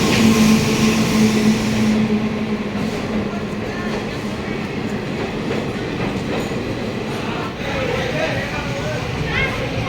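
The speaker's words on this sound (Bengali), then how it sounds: "চার নম্বর প্ল্যাটফর্মে আসলো" The Up Silchar Kanchanjunga Express pulls into platform 4 at Malda station amid sudden rain, its steady rumble and clatter of wheels filling the scene, with voices audible beneath the rail noise.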